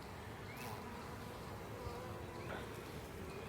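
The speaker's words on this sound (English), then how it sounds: "right there is like a bee with pollen on it" Honey bees buzzing around an open hive during an inspection, a continuous close drone with individual bees whining past, fairly soft and steady.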